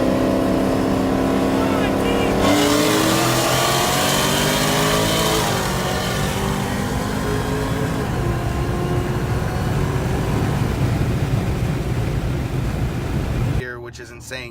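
Cars racing with loud, steady engine roar that revs and climbs in pitch through the run, staying close and forceful before cutting off abruptly near the end.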